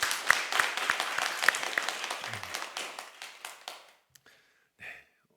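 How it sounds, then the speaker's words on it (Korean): A church congregation at a Korean Sunday worship service claps together in a brisk burst that gradually thins and fades over a few seconds, then stops, leaving a brief quiet with a small stray sound. "우리 하나님 앞에 영광의 박수 올리겠습니다"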